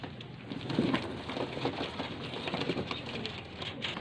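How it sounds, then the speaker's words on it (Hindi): Pure flying-breed pigeons in Lahore give soft, low cooing with faint fluttering and rustling, close but quiet and continuous, with no talking over them. "प्योर परवाजी कबूतर हैं ये वाले"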